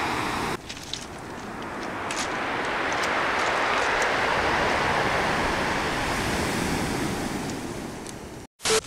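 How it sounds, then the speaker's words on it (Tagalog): Ocean surf swells and crashes on the La Union shore in one long roaring wash, loud and close, with wind buffeting the microphone. "Malamang umaabot dito yung hampas ng alon."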